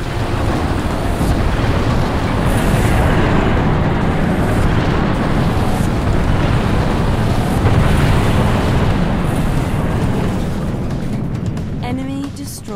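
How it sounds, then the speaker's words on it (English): An orbital MAC cannon strike explodes in the Halo Wars video game, a loud, sustained roaring blast rumble that holds steady for over ten seconds before tapering, with faint electronic tones near the end. "The Mac is online and primed."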